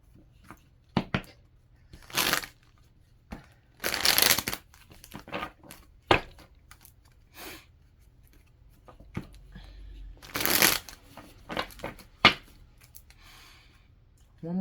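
Tarot cards shuffled by hand in short papery bursts of riffling and crinkling, several separate flurries spread across a quiet room with brief pauses between them.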